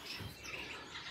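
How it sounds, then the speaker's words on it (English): Caged green-bodied, yellow-faced star finches chirp in quick, faint, high tweets over a soft background hiss. "I've got my green-bodied, yellow-faced star finches in here"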